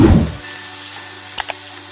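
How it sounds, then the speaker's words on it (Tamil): Sliced big onions dropped into hot oil with mustard seeds and urad dal for peerkangai kootu, an initial thump then a steady close sizzle with a couple of small clinks. "இந்த பெரிய வெங்காயம் போட்டு"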